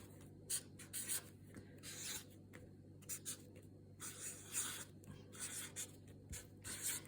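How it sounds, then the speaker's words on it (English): Pen or pencil writing numbers by hand on paper, close and quiet, with short scratching strokes in an irregular rhythm and brief pauses between them. "we can start by writing our numbers"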